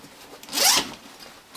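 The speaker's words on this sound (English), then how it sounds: "Internally on this guy, again, full width zipper right here." A full-width zipper on a Mystery Ranch backpack is drawn open in one quick, close rasping pull lasting under half a second, with a faint rustle of fabric before and after.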